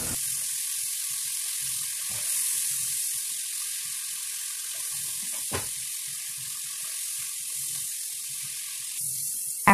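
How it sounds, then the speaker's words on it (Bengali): Cumin, turmeric and salt fry in a pan with a steady, close hiss, broken by a few soft knocks of stirring. "দিয়ে কিছুক্ষণ আমি একটু মশলাটাকে ভুনে নেব"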